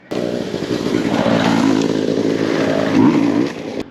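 A motorbike passes along a forest trail, its engine swelling and revving close by, then holding loud before cutting off sharply, with no talk over it.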